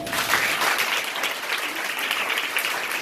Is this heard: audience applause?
yes